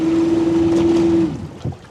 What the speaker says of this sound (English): give us some throttle so we can all hear it